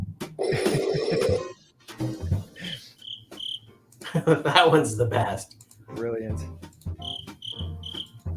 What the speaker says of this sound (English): You hear them crickets.